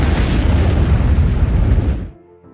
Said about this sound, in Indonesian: terjadi ledakan yang begitu besar.